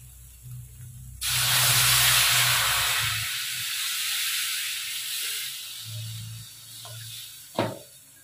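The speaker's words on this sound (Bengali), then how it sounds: "এবার জল দিয়ে দিই।" Water poured onto hot fried spice paste sets off a sudden loud hiss that slowly fades into a softer steamy sizzle over a low background hum, ending in a brief clatter near the end.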